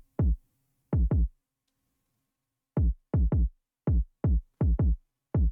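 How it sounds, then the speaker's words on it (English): An electronic kick drum in a beat hits in short, punchy thuds with a falling pitch, heard alone: two single kicks, then a syncopated run of paired and single hits. "There's just drums now. We got the kick."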